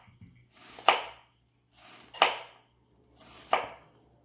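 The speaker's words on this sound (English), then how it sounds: "We will start off by chopping the onions thinly." A knife chops through onion on a board in three separate strokes about a second apart, each a crisp crunching thud, close by and with no talking.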